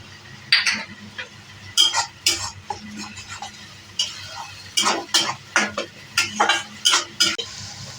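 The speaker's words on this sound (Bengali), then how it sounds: "এখন একটু নাড়িয়ে নিচ্ছি।" A spoon stirs onion paste and tomato paste in a pan for an omelette curry, with repeated scraping strokes in uneven bursts over a low sizzle and no talking.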